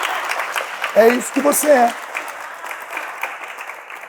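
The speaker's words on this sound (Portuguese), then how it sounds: "Pode aplaudir." A congregation at a Christian sermon applauds in a dense, continuous wash of clapping, while a preacher's voice talks briefly over it before the clapping carries on alone and gradually thins.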